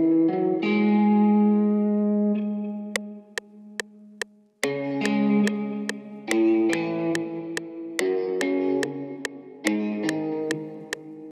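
A drill-style beat melody made in FL Studio 20, its sustained synth notes washed in Valhalla Plate reverb and an RC20 retro effect, with sharp regular ticking hits cutting through from about three seconds on.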